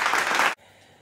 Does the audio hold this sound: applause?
yes